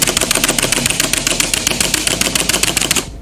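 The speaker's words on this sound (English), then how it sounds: "You wanna hear my keyboard?" Fast, loud, close-up clatter of a computer keyboard being typed on, a dense run of sharp key clicks with no pauses that stops just before the end.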